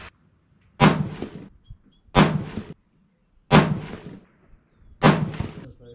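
A 6.5 PRC rifle loaded with 153-grain Hornady A-Tip bullets, H1000 powder and CCI 250 primers fires four loud, close shots about 1.4 seconds apart, each boom followed by a short decaying echo.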